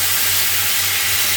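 Chicken fajitas with onion hissing on a hot griddle as two scrapers toss them stir-fry style, a loud, steady, close sizzle with no talk.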